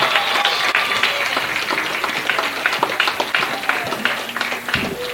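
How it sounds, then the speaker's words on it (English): Crowd applauding student athletes at an NCAA Division II South Regional softball game, a loud stretch of clapping from many hands with scattered whoops, heard without talk. "Let's give the outstanding student athletes a round of"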